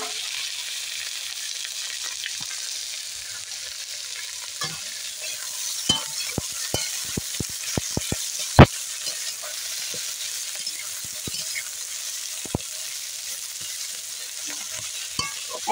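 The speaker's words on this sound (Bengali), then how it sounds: "এবার দিয়ে দেবো পেঁয়াজ।" Sliced onion fries in a little oil with whole cumin, cinnamon, cardamom and cloves, giving a steady bright sizzle under a cluster of sharp spatula taps and scrapes as it is stirred, with one loud clank in the middle.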